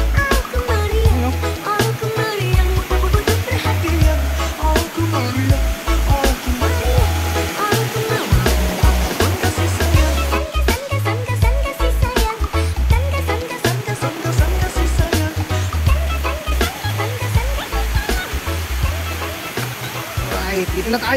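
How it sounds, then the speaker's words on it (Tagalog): The Baluarte waterfall roars in a constant broad rush of falling water, loud and near, while voices talk and exclaim over it at intervals. "Yun oh, yung talon oh."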